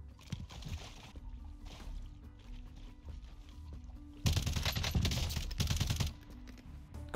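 SA87 light machine gun firing in Warzone Season 3, loud sustained automatic bursts in the middle stretch, with quieter scattered gunfire and game sounds before and after.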